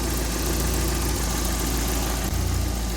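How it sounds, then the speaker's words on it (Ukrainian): An Opel Calibra car engine idles steadily up close during repairs, a constant low hum with an even mechanical chug throughout. "Все чітко, мотор працює"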